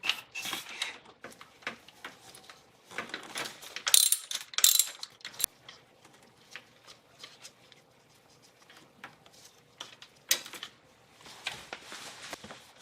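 Ratchet wrench loosening 12 mm bolts on the AC pulley of a 1992 Acura Legend, heard as brisk bursts of close metallic clicking separated by quieter pauses, with no talk.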